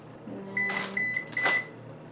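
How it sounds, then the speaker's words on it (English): Kitchen oven chiming to signal it has preheated to about 415 degrees, a few short high electronic beeps close by over quiet room noise. "And that's signaling that it's preheated"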